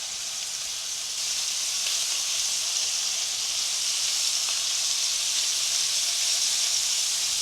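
Shrimp searing in a single layer in a hot pan for fajita bowls, a bright, even sizzling hiss that holds steady throughout with no talk.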